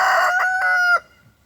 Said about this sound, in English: This is that rooster.